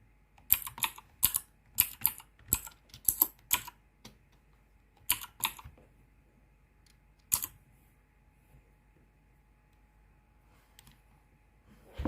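Crisp clacking of a mechanical keyboard fitted with ABS keycaps, close and clear: quick bursts of keystrokes in the first five seconds, then a few isolated presses with long quiet gaps between them.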